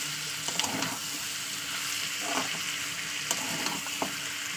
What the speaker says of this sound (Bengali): আমি এখানে তেলের সঙ্গে প্রত্যেকটা জিনিস ভাজা ভাজা করছি